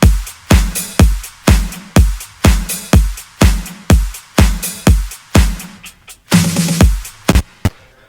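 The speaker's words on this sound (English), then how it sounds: "So for our drums, we have a punchy kick hitting on every single downbeat" A punchy electronic kick thumps on every downbeat in a steady four-on-the-floor progressive pop drum pattern, layered with clap, snare, hi-hats, shakers and percussion, with a brief busier fill near the end.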